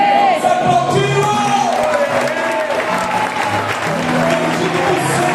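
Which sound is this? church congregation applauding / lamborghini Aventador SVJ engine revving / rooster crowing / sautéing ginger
church congregation applauding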